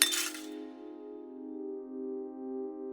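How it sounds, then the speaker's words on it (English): Something small and hard clinks inside a pocket: one bright metallic or glassy chink at the start, then a clear ringing tone that hangs on and slowly fades. "She pats one of her pockets, and something inside goes clink."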